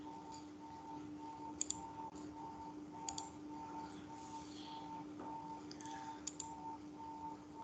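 Computer mouse clicks, sharp and isolated, land in small bursts of one or two over a steady electronic hum, at moderate level with no talking.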